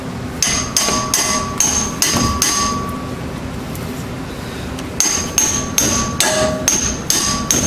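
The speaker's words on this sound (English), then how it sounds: "you might have to have a hammer to kind of get it in there" Steady metal-on-metal hammer blows drive a tie rod end into its bushing on a Jeep Cherokee. About a dozen sharp, ringing strikes land close by in an even rhythm, with a short pause partway through.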